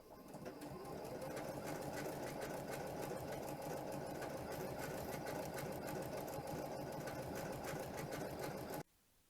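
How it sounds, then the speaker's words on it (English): A sewing machine stitches a snowflake pattern onto fabric, running in a loud, fast, steady mechanical rattle for about nine seconds before stopping abruptly. "I'm going to start sewing"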